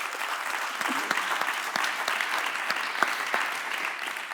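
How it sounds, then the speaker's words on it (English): An audience at a business talk claps steadily, a fairly quiet, dense patter of many hands with individual sharper claps standing out throughout. "Yes, now we can clap."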